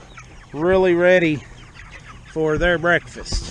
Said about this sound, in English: we're down here to let the chicks out